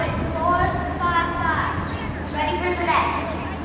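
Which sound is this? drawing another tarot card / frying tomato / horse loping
horse loping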